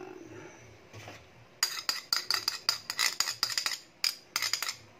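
Utensil clinking steadily against a mixing bowl as egg and water are stirred together, a quick run of close, bright taps and scrapes after a brief quiet start, with no talking.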